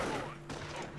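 Machine gun fire in the Company of Heroes video game, a dense unbroken rattle of rapid shots that fills the whole short moment, loud and close in a busy battle mix.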